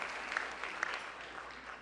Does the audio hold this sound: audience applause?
yes